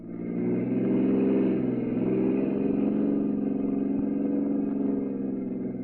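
A car engine pulls away and keeps running, a steady mid-pitched droning hum that holds at an even, moderate level throughout with no break.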